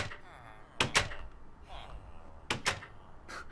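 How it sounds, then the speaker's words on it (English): Doors slam in the Minecraft video game, several sharp wooden thuds arriving in two quick pairs at a moderate distance, with a low game background rumbling between the hits. "They're slamming more doors than I did last episode."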